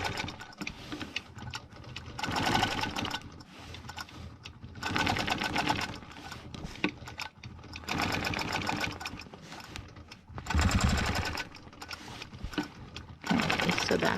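Sewing machine stitching a stencil background design, loud close bursts of rapid mechanical whirring that start and stop repeatedly, with brief quiet gaps and some talk between runs.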